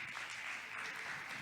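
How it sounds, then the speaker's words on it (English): Audience applause for a speaker at a cybersecurity conference talk: a quiet, distant wash of clapping that holds steady for a moment, with no voices over it. "Please give a good round of applause for Mark, everybody."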